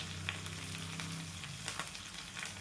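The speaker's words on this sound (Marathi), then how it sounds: "लसूण जिरं छान भाजलं गेलं" Garlic and cumin paste frying with curry leaves and chilli in a pan, a steady close sizzle with faint stirring, short and alone without any voice.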